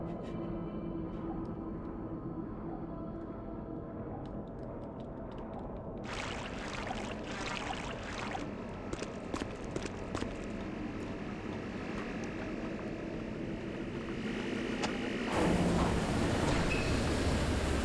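A turbine runs in the game Vampire: The Masquerade – Bloodlines as a steady low mechanical drone with watery churning and faint clanks, growing noticeably louder and fuller near the end.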